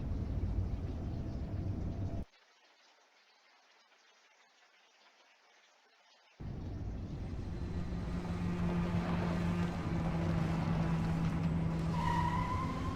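A car drives in the Indigo Prophecy video game with a steady engine roar. The roar cuts to near-silence for a few seconds, then returns, and tire squeals rise near the end.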